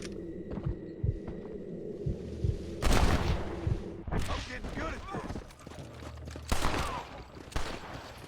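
Gunfire in Red Dead Redemption, a few sharp loud shots scattered among low thuds and ambient game noise, with someone talking over it.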